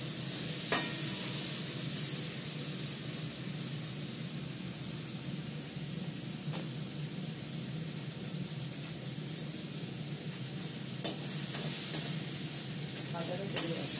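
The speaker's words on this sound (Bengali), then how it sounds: "নাড়াচাড়া করে করে ভালো করে ভাজা করে নেবে, একদম কুচি কুচি করে আলুটা কাটা।" Finely chopped potato sizzles steadily as it fries in a pan, with a few sharp utensil clicks from stirring scattered throughout.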